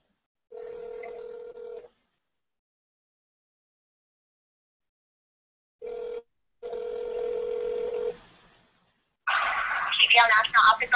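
Telephone dial tone and touch-tone dialing placed through Google Voice to a hotline: a steady tone, a short beep, then another stretch of tone, followed by a ringback or connecting burst near the end; no talking.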